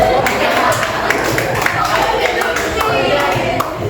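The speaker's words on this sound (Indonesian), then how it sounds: "Oke, tepuk tangan dulu." A classroom of students claps hands together, a dense, steady burst of many overlapping claps filling the room for several seconds, with a few voices mixed in.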